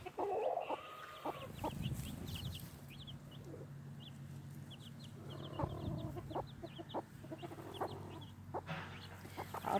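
Silkie chicks and chickens in an outdoor pen cluck steadily, with soft peeping and chirps scattered throughout, close and continuous.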